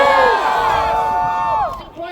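A rally crowd at the Indiana Statehouse cheers and whoops loudly, a dense wall of shouting voices that swells and then drops away near the end.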